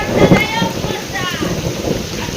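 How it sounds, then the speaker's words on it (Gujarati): Heavy rain pours down steadily, a dense, loud hiss of water on surfaces with no letup. "વરસાદ આવ્યો છે બહુ ને બહુ"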